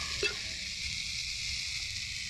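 Tomato frying in a pan with turmeric powder, a steady close sizzle with a faint stir near the start, no talk.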